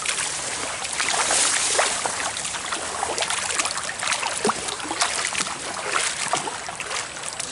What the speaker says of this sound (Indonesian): Ini sungainya bos.